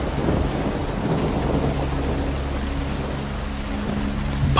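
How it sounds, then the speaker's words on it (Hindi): Night rain drizzles steadily while a low thunder rumble rolls underneath, a dense continuous wash of falling drops with no voices, close and full, brightening slightly at the very end. "बादल हैं, बूंदाबांदी हो रही है और भी डरावना माहौल बन गया है।"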